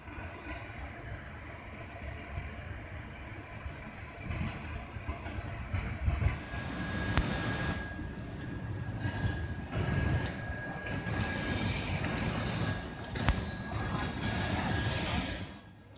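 Inside an ÖBB Nightjet night train arriving in Basel: a continuous rumbling rail noise with faint clicks of wheels over track joints, a steady high squealing tone, and muffled interior sounds throughout.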